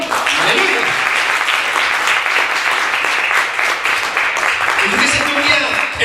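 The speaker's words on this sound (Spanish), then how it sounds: "Den un aplauso al Señor" A church congregation applauds during a sermon, a loud, continuous wash of many hands clapping, with voices calling out over it throughout.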